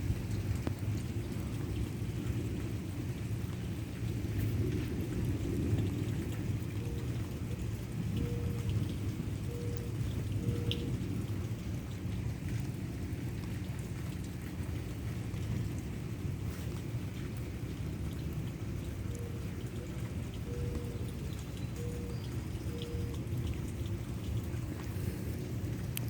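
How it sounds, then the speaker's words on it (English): Steady heavy rain pours throughout a severe thunderstorm in southeastern Pennsylvania, with low rumbling thunder rolling underneath in a continuous loud wash of sound and no talking. "I think the thunder and lightning was mostly around us"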